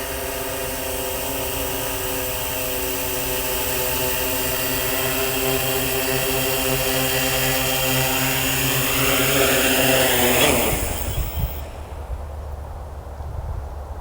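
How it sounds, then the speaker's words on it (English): Quadcopter drone buzzing steadily with layered propeller whine, rising slightly then winding down sharply as throttle drops on landing, leaving faint low residual motor noise. "I'm going to go ahead and bring the aircraft in for a landing now"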